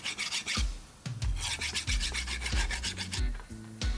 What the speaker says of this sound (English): I'm going to file out where the tomahawk handle slides in just to get it nice and squared up and even for a better fit.